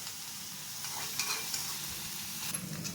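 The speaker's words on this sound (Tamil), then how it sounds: "இந்த மாதிரி வதக்கிடணும்" Onions and green chillies sauté in a pan, a close, steady sizzle with soft scraping stirs rising and falling throughout.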